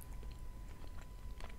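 Chewing a Kyrgyz Gulboto variety of soft, toffee-like sweet, with moist, sticky mouth sounds and small bites close to the mic, steady throughout with no talking.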